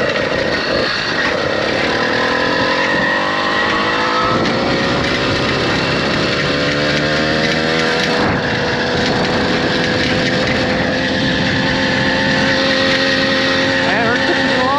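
A DIY conversion-kit engine runs steadily at roughly half to quarter throttle while cruising, a loud continuous drone with shifting harmonic whine and slight pitch changes throughout, with voices talking over it.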